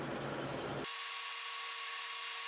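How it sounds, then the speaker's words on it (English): Sandpaper at 240 grit rubs briskly over an Alumalite pen blank, a quick rough scratching burst for under a second, followed by a steady machine whine running on alone. "this Alumalite sands up just so easily"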